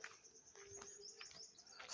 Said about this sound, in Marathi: सुंदर पाखरांचा किलबिलाट,